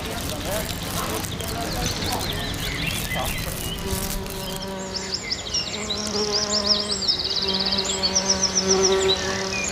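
A close, steady buzzing of several hornets feeding on ham hums throughout, with droning wingbeat tones rising and falling, growing busier toward the end.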